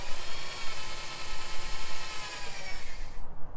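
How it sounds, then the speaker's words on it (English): An electric drill with a 5/16 inch bit bores into a maple tree, whining steadily and loudly with pulsing load changes as it cuts into the wood, then stops abruptly near the end. "You're going to drill in at an angle, going up like this, and go in about 2 to 3 inches."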